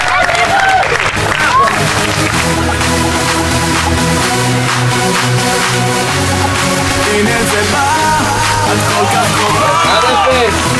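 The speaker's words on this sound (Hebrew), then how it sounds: "מחיאות כפיים לאל גאוצ'ו!" An arena crowd applauds and cheers after a basketball semifinal, a dense, loud, continuous roar of clapping and voices, with an announcer talking over it.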